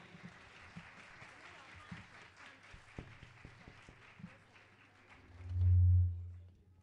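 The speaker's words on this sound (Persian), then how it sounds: "تشویق بفرمایید" Audience applause at a music school concert, a steady patter of clapping under an announcer's voice, ending with a loud low thump near the end.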